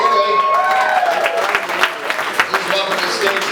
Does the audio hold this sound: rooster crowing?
no